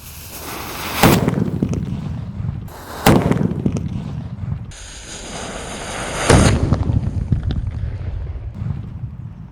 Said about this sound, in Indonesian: langsung saja kita nyalakan mercon Happy Power guys